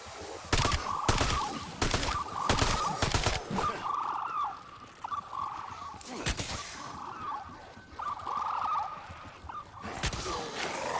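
Automatic gunfire from a Black Ops 7 Zombies match: bursts of rapid shots in several clusters with gaps between them, loud and close over a constant game background of growls and effects.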